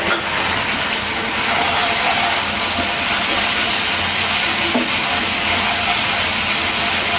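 Spices for a Bengali fish egg curry are stirred and fried in a pan, producing a loud, continuous, even sizzling hiss that carries on without a break.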